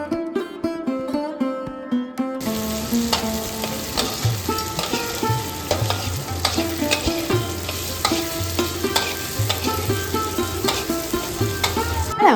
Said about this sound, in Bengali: এবার আমরা ঘিয়ে মাখা গোবিন্দভোগ চালটা অ্যাড করে দেব কড়াইয়ের মধ্যে।